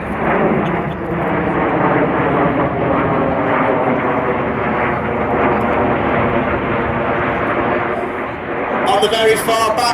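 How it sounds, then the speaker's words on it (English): RAF Eurofighter Typhoon display jet roaring past at an airshow, a loud sustained engine rumble that holds steady throughout, with a public-address voice speaking over it. "in celebration of 20 years of the Royal Air Force Typhoon display team, this is Typhoon."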